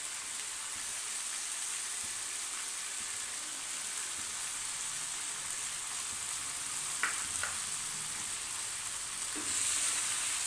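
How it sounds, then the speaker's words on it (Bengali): Chicken pieces and chopped tomato frying in a pan for a village-style chicken curry with potatoes, a soft even sizzle throughout with a couple of brief stirring clicks and a rise near the end. "টমেটোর সাথে মাংসটাকে আরো কিছুক্ষণ কষিয়ে নেব।"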